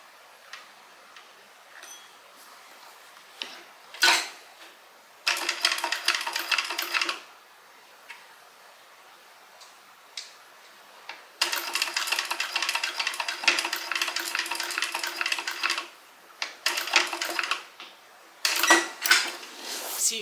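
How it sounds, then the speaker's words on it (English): A sewing machine stitches the handle onto a tote bag just beneath a slit, running in several bursts of rapid, steady mechanical whirring and ticking, with short quiet pauses and clicks between runs. "I'm stitching on the handle, and I'm stitching right underneath the slit."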